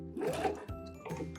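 A sewing machine runs briefly while back stitching at the end of a seam on a neckline placket, a short close whirring motor burst that pauses and then resumes.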